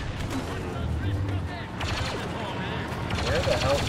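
Blaster gunfire from Star Wars Battlefront 2 in a Capital Supremacy match on Naboo: dense, continuous rapid-fire shots and fusillade lasting about four seconds, loud and close, with overlapping game noise throughout.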